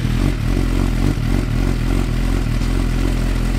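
A 2017 Suzuki GSX-R1000 sportbike runs on a dyno through an Akrapovic exhaust, its engine roaring loud and continuous with deep, sustained rumble and rattling mechanical clatter throughout, close and without talk.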